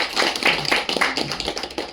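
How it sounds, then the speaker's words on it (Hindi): An audience in a campus presentation hall bursts into brief, dense applause, a fast scatter of overlapping claps lasting under two seconds with no voices over it. "अलकेश भाई के लिए एक जोरदार तालियां है।"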